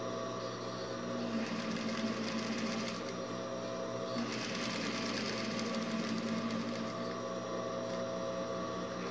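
A sewing machine runs steadily while stitching a built-in pocket, a continuous mechanical whir with a rapid needle rhythm and slight swells in speed, moderately quiet and unbroken, with no voices.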